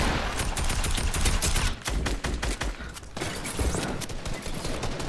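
Rapid gunfire in the video game Fortnite, dense bursts of automatic shots fired almost nonstop, loud and close, with a brief lull partway through.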